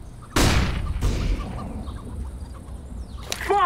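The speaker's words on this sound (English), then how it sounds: "I'm throwing a flashbang." A flashbang grenade goes off in the video game CS:GO on the Inferno map, a sudden loud burst followed by a second blast and ringing game noise, with a brief chirping effect near the end.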